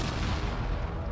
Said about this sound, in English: The explosion was massive.